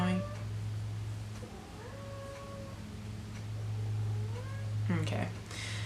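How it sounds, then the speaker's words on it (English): A house cat meows several times nearby, drawn-out rising and falling cries with a louder final call, while a person talks quietly over a steady low hum. "There's a cat meowing."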